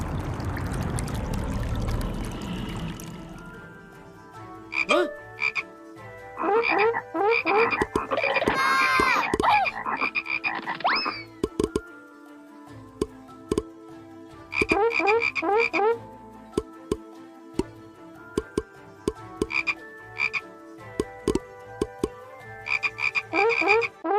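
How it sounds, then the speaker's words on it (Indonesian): Frogs croaking in repeated bursts of rapid, raspy calls, loud and close, with brief gaps between choruses, used as a sound effect in a Bible story about the plague on Egypt. "Lalu Tuhan memenuhi rumah orang Mesir dengan katak."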